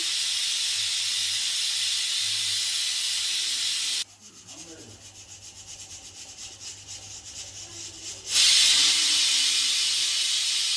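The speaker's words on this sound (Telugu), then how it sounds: "రెండు విజిల్ వచ్చినాయి. ఇప్పుడు స్టవ్ ఆఫ్ చేస్తున్నా." Pressure cooker on a stove cooking potato kurma, giving a loud, steady hiss of whistling steam that drops away midway, then returns sharp and strong near the end, with no talk.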